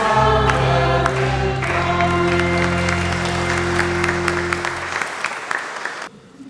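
Congregation clapping at a Lenten Sunday Mass in a sanctuary, steady applause under sustained organ or choir tones, then tapering off near the end.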